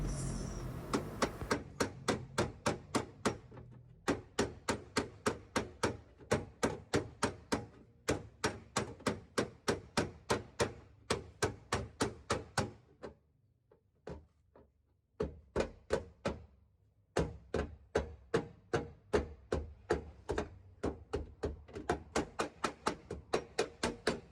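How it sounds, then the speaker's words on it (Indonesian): A hammer beats a dented car body panel in long runs of sharp metallic blows, steady and rhythmic, close and loud, with brief pauses between bursts. "Untuk saat ini kita masih proses pengetokan"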